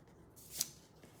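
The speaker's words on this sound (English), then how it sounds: "And now I'm going to erase that pencil mark." A pencil mark is rubbed out with an eraser on card stock while making a note card tote, a short soft scrubbing burst of about a quarter second, close and quiet, with no voices.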